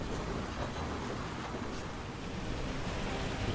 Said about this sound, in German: warum bin ich eigentlich draußen im Regen?